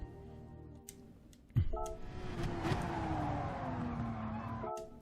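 A Porsche Gr3 race car in a driving game, on the Autodromo Nazionale circuit: engine note drops as it brakes hard, a sharp downshift blip, then a falling engine pitch through the gears under a voice talking.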